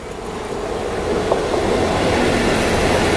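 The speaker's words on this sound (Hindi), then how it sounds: "देखो सामने से अभी कोई ट्रेन आ रही है जो कि निजामुद्दीन रेलवे स्टेशन को स्किप करते हुए जा रही है" Train rolling past at Nizamuddin railway station without stopping, a loud steady rumble with faint wheel clatter that builds over a few seconds and stays close.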